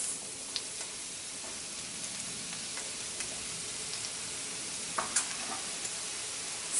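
Green onions sizzle in a pan of grapeseed and sesame oil for a vegetable stir-fry, a steady close frying hiss with scattered crackles and pops and no talking.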